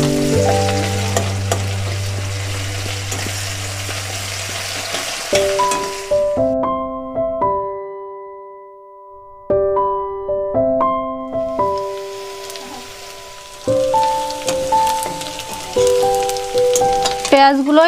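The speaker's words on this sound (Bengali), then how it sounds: "এবার বড় 2টো পেঁয়াজ কুচি দিয়ে দেবো।" Chopped onions hit hot oil with spices and asafoetida for chana masala, a loud close sizzle and frying crackle that drops away, then returns with stirring scrapes and clinks, no speech.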